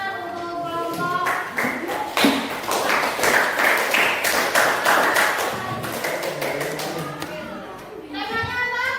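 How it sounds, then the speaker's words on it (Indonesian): A classroom group breaks into a burst of hand clapping that fills the middle of the clip, close and lively, with voices talking before and after it. "Berikan tepuk tangan untuk kelompok."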